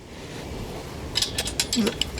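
A ring spanner and socket tightening a nut on a quad jenny trailer during assembly, a string of quick metallic ratcheting clicks and clinks over low background noise.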